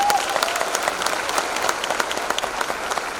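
Audience at a business presentation gives title holders steady, dense applause, many hands clapping together at close range, sustained throughout with no talk over it.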